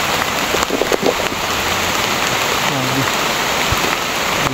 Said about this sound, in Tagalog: Grabe yung ulan dito mga idol.